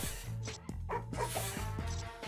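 A cartoon dog in the Madagascar Escape 2 Africa video game lets out several quick, close barks and yips in an uneven rhythm over a steady musical game soundtrack.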